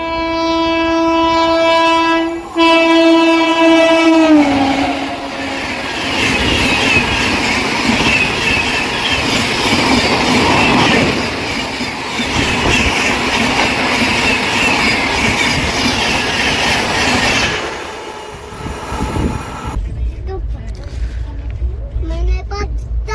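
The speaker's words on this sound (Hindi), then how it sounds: "तो GT एक्सप्रेस फाइनली आ रही है।" Indian Railways GT Express passing close by, its loud horn blaring in long steady tones before the heavy rumble and rattle of the coaches sweeps past, wheels clattering for most of the pass, then fading into quieter station ambience.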